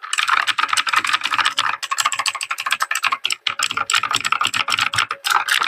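Rapid, close clacking of a heavy mechanical keyboard with a smooth feel, dense keystroke bursts running steadily with brief pauses and no talking.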